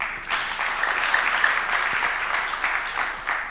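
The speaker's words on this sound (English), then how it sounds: "Let's clap for that." Applause from the audience at a general assembly, a continuous wash of many hands clapping at an even level, with a few sharper individual claps standing out.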